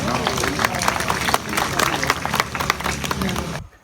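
Applause at an annual anniversary gathering in Ratta Dadyal, Azad Kashmir, a dense crowd of hand claps filling nearly four seconds with loud voices mixed in, then cutting off abruptly at the end.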